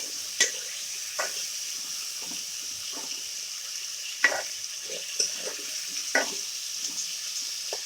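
Fish fries in a pan with spices and coriander leaves, giving a soft, steady sizzle with occasional sharper crackles and light stirring scrapes, close and low in level.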